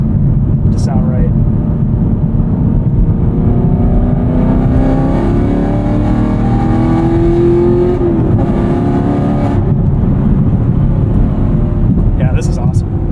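A modified 2022 Chevrolet Camaro SS 1LE V8 rumbles loudly and steadily throughout, with engine tone climbing under acceleration, heard from inside the cabin while people talk over it.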